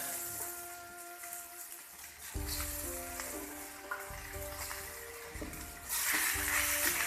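Ginger julienne, scallion and shredded cabbage being stir-fried in a pan, a faint continuous sizzle under background music that swells louder toward the end.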